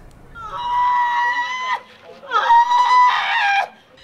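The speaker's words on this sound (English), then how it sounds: "Screams pierce the air as a grieving relative comes to grips with the harsh reality" A grieving relative screams at the scene of a shooting: two long, loud, piercing wails, the first sustained for over a second, then a short break before a second, rising cry.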